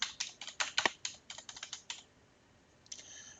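Typing on a computer keyboard while entering a desktop IP configuration, a quick run of close, crisp key taps for about two seconds, then a pause and a brief softer rattle.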